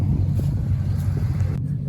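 A heavy truck shoved backwards in a video game, a steady low engine-like rumble with faint hiss that holds nearly constant for about two seconds before a slight drop near the end.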